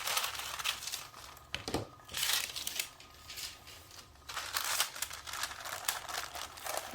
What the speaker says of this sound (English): Let me cut this down a little bit so it'll actually fit into the laminator.